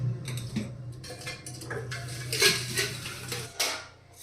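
Dishes, pots and cutlery clatter and clink in a home kitchen sink while being washed, a busy run of close, irregular metallic knocks and scrapes with faint running water, no talking.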